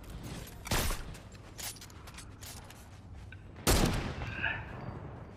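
Gunfire tearing at cover in the Fortnite battle royale game, two loud bursts of shots a few seconds apart over a steady hum of game noise, with faint voices.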